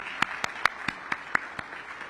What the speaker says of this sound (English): Let's give our mayor a round of applause.